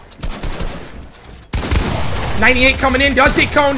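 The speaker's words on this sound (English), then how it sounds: "Shots are being traded." Rapid gunfire exchange in Fortnite, dense bursts of shots loud and close, while an excited commentator talks over the action throughout.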